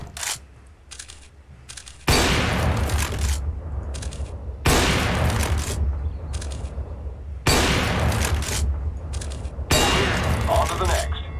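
Loud bursts of gunfire from the CS:GO training course crack out in four or five sustained volleys separated by short gaps, each burst dense and rapid like automatic rifle fire.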